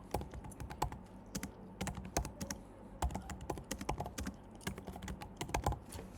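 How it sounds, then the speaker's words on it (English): Rapid, uneven clicking of keys on a Mac computer keyboard, close and fairly quiet, in continuous bursts with short pauses and no talking. "They just type in."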